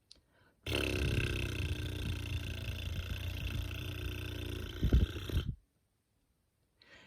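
A voice imitates a gorilla blowing a long, loud raspberry: one sustained, buzzing, rubbery blast of nearly five seconds, close and strong, with a sputtering flourish just before it cuts off into silence.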